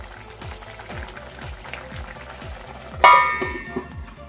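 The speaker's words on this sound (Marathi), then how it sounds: "झाकण काढते मी आता आपण हे मिक्स करूया" A lid comes off a pan of dried bombil fish cooking as an Agri-style dry dish. A soft rhythmic ticking from the pan is followed by a single bright metallic clang and a short rattle.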